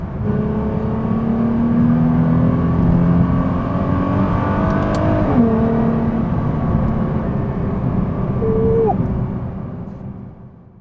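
A Nissan GT-R R35 pulls hard, its engine note climbing steadily in a loud, continuous roar from inside the cabin, with a brief gear-change dip before fading at the end.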